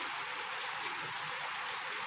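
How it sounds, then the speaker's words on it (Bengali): Rain falls as a faint, even hiss of drops, steady and continuous without any voices. "সারাদিন মনে হয় এই বৃষ্টিই দেখতে হবে"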